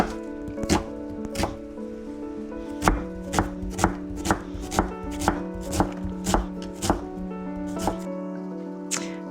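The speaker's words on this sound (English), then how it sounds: "You probably want a cup to a cup and a half of diced onion here." Onion, medium to large, chopped with a knife on a board into dice, a steady run of about fifteen sharp, close taps in an even rhythm, with no talk.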